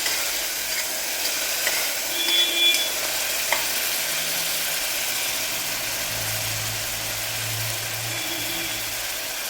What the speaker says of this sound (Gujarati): હવે એને બરાબર સાંતળી લઈશું.